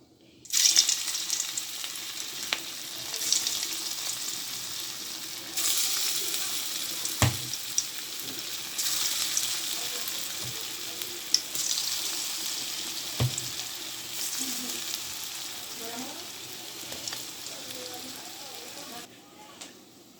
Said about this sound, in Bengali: বড়াগুলো এক এক করে ভেজে নিচ্ছি, উল্টিয়ে পাল্টিয়ে দেব।